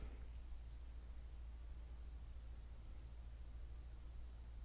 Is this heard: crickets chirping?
yes